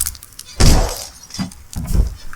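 Objects shatter and break in the horror game Kill It With Fire, with a loud crash followed by smaller breaking impacts and clatter over a noisy background.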